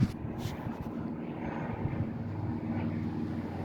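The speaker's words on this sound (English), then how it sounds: "The plane." Propeller airplane flying overhead above a backyard garden, a steady distant low drone with light wind noise, no talking.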